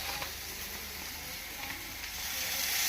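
A drop of oil sizzles in a pan while village-style chutney is made, a continuous close hiss and fizz that grows slightly louder toward the end.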